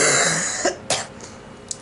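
Brief throat clearing and short coughs from a person with a cold, a few isolated bursts close to the mic with quiet pauses between them.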